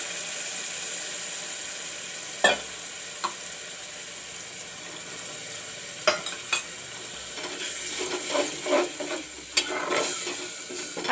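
Masala paste frying in a pan for a palak and chana dal dish, a low sizzle broken by scattered scraping stirs and spoon knocks that grow busier toward the end.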